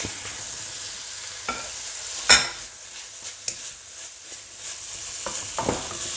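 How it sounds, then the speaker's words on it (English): Ginger fries in a pan with a continuous bright sizzle, loud and near, punctuated by a few scrapes and clinks of a utensil stirring against the pan. "I love the smell of ginger cooking."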